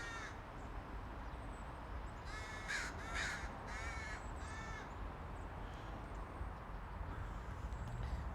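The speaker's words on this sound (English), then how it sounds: "And we can hear the birds." Crows cawing outdoors under a solid overcast sky, a run of harsh calls clustered early on at moderate distance over steady wind-like background noise, then fading to quieter ambience.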